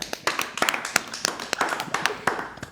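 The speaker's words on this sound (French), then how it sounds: "Applaudissements public, évidemment." Audience clapping at a live comedy or variety show, a burst of scattered, uneven hand claps with sharp individual taps rather than dense roaring applause, fairly close and moderately loud.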